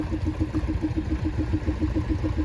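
A Field Marshall single-cylinder diesel tractor, about 3.5 litres on its one cylinder, fires away in a fast, steady chug of evenly spaced low thumps, close and loud in an outdoor tractor ring parade at a steam fair.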